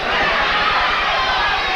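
Boxing arena crowd booing in support of one-footed boxer Craig Bodzianowski, a loud, dense, continuous roar of many voices filling the hall without a break.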